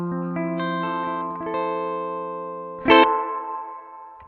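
A BOSS RE-2 Space Echo delay pedal processes sustained guitar notes into repeating echoes, then a louder struck chord rings out and decays with lingering trails, clean and close, with no talking.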